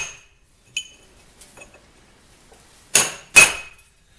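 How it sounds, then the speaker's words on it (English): Metal punch struck with a hammer on the flat spot of a cast iron vise, a few sharp ringing clinks, then two louder close strikes near the end. "I can come back here on the flat spot and punch these holes a little deeper"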